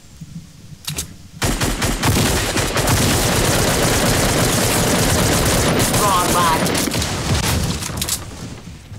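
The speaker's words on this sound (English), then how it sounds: "I hear shots." Rapid automatic gunfire and heavy bursts from Fortnite gameplay rattle loudly and almost continuously for several seconds, close and dense, with game sounds mixed in.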